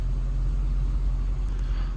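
Mercedes CLS55 at full throttle with a supercharger that fails to build boost: a steady, deep engine drone and low rumble heard close up, without breaks.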